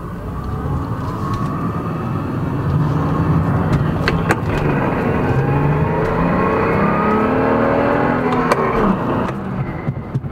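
BMW M235i with its N55 engine on a Bootmod3 stage 1 tune accelerates hard through the gears in Sport Plus, a loud, steady cabin drone with rising pitch and quick shifts, no talking.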